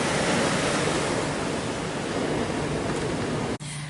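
Ocean surf washing onto the sand at St Ives, a steady, loud roar of breaking waves with broadband hiss that continues without pause until a brief dip near the end, no voices present.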